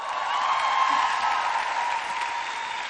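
A crowd at a women's church congress gives sustained, dense applause to welcome the afternoon's speaker, a steady, even roar of clapping close in the hall.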